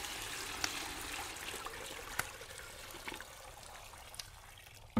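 Hot water poured and trickling steadily in a Western radio drama, a continuous liquid splash with a few small clinks, fairly quiet and alone.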